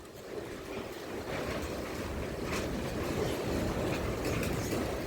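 Strong wind roars outdoors in a continuous low rumble and rushing hiss, building slightly and holding steady throughout, with no voices.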